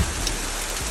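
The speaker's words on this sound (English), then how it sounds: "It is now raining and we're still in our cave." Steady rain falls outside a cave in Bryce Canyon, Utah, making a dense, even hiss of drops on rock with a low rumble underneath and no voices.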